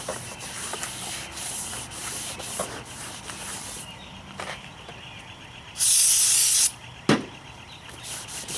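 Brake cleaner sprays in a single sharp, loud hiss lasting about a second onto a BMW X3 E83 brake rotor's friction surface, amid quieter rubbing and light workshop clatter, followed by a short knock.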